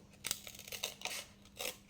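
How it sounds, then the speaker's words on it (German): Scissors snip through paper while a small junk journal cover is trimmed, giving a quick series of close, crisp cuts with brief pauses between them and no talking. "Ich mache jetzt das gleiche auch noch mit der Schere, so weit wie ich komme."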